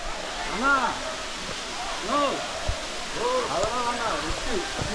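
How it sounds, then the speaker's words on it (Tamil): The Talakona waterfall, a tall falls near Tirupati in India, gives a constant broadband roar of rushing water, with people talking over it throughout. "இதுதாங்க தலக்கோனா வாட்டர் ஃபால்ஸ்."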